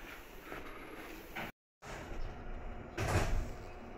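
A Meitetsu train stands at Kasamatsu station during boarding, its doors sliding with a soft rumble over a quiet hum. The sound cuts out briefly before a louder swish of door movement.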